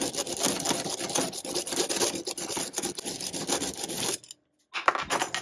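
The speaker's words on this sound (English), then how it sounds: "I'm going to remove the two sides just with a hacksaw" A hacksaw cuts through a metal tremolo block for a vintage Epiphone S-500 guitar, giving continuous close rasping strokes that stop briefly near the end, then start again.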